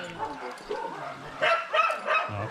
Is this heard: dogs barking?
yes